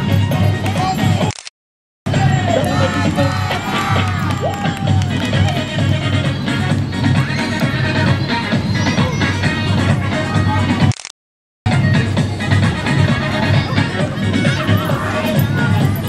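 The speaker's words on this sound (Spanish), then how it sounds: "Que se escuchen nuevamente los aplausos para el Jardín de Niños Gabriela Mistral" Applause and crowd noise for kindergarten children of Jardín de Niños Gabriela Mistral at an outdoor parade, a dense, loud, continuous clatter of many hands and voices, broken by two brief silent gaps.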